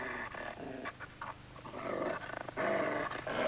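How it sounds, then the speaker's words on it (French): A dog growling in a tense indoor scene, with a low, rumbling snarl broken into uneven bursts and pants, fairly close and loud, no speech over it. "Faites sortir ce chien."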